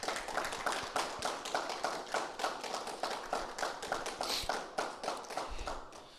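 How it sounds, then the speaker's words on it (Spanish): A church congregation applauds at a sermon, giving rhythmic, fairly distant clapping in regular beats, moderately loud and steady with no talk over it. "¿Por qué no le damos un fuerte aplauso al Señor?"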